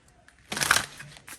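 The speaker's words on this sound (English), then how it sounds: "We'll shuffle one more time." Tarot cards are shuffled once in a single close, brisk riffling burst of about a third of a second, followed by faint rustling.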